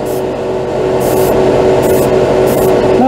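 Aerosol spray can spraying chrome lacquer paint, a loud close hiss running throughout with several brighter bursts as the nozzle is pressed, no talking.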